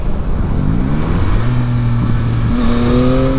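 A 2021 Yamaha MT-09 SP motorcycle engine in drive mode 1 pulls hard and rises in pitch through the gears, loud and steady under heavy wind rush.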